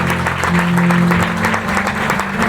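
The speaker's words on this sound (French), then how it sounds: "Je vous demande de l'applaudir chaudement." A graduation ceremony audience bursts into warm applause for the class laureate, a dense, loud, sustained clatter of many hands clapping close by.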